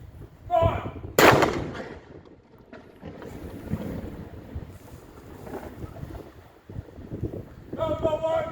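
Ceremonial cannon salute on Guernsey, heard outdoors in gusty wind: one sharp, loud report with a rumbling echo, set among shouted commands and wind noise.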